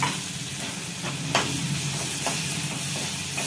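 Onion and tomato sautéing in a pan, a steady close sizzle and frying hiss with a few soft clinks and stirring scrapes mixed in, no voices.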